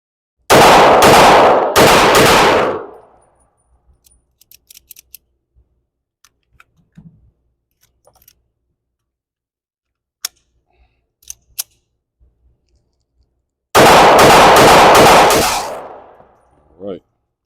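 Gunfire at an outdoor shooting range with New Republic rounds: loud, close reports, a quick pair at the start and another burst near the end, separated by long quiet stretches with faint handling clicks.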